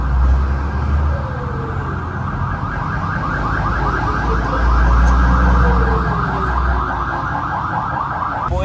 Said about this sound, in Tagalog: kaya maraming dumadaan na ambulansya